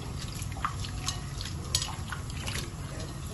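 Water trickles and sloshes as it is poured over sliced fish and squeezed by hand in a bowl for a coconut-ground curry, with soft wet drips and splashes at close range, no talk.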